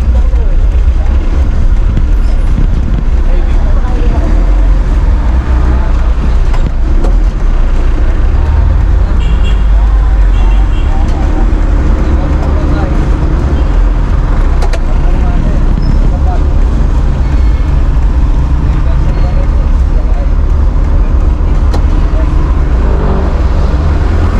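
Road traffic on MacArthur Highway, a loud continuous low rumble of passing cars, buses and trucks heard up close from a moving vehicle, with voices talking over it.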